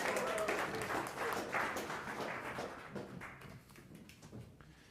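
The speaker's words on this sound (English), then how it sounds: "we should clap for them" Scattered clapping from a church congregation at a sermon service, fairly faint and thinning out over several seconds, with a little murmur mixed in.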